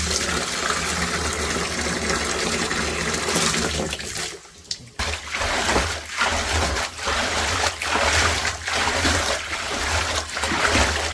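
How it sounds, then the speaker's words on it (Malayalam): Water pours and splashes steadily into a container of settled arrowroot starch, a broad rushing sound with a brief dip partway through, then repeated surges of pouring. "വെള്ളം ഒഴിക്കുകയാണ്"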